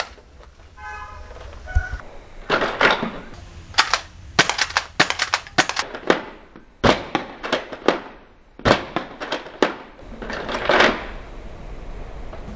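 A Nerf-style M4 toy blaster fires a long string of sharp, snappy shots in quick irregular bursts, loud and close, with brief pauses between volleys and no talking.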